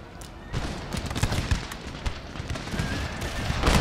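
Musket volleys in a Darthmod Empire battle, with dense, rapid crackling gunfire and scattered booms rolling on continuously at a moderate distance.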